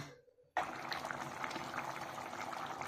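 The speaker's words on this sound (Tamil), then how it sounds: "கொஞ்ச நேரம் கொதிக்க விட்டுருங்க." A pot of dry fish curry with coconut milk comes to a steady boil with a constant bubbling, gurgling hiss that starts abruptly and continues close by without any talking.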